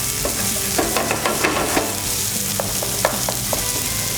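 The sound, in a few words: onions sautéing with cumin in a pan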